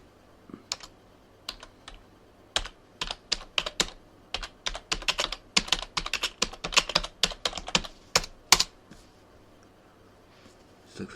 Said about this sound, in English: We'll go type it in here.